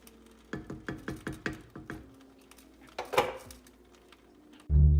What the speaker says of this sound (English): Let's just stir this stuff in.